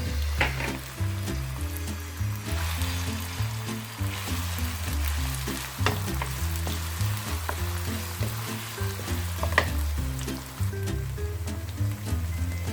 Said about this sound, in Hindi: सबसे पहले मैं ये प्याज डालने लगी हूँ।